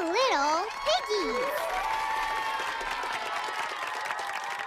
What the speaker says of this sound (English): Clap for the three little piggies!